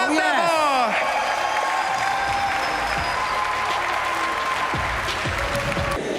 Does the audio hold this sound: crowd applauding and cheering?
yes